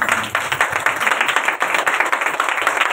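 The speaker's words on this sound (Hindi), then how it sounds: "ताली मारी सुना प्रभु को" A church congregation claps hands together in praise, a dense, steady burst of many hands close by, running continuously with no voices over it.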